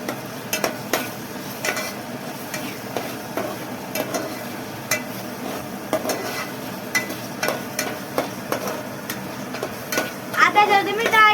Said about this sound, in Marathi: मीठ टाकते, त्याला आता हलवून घेते।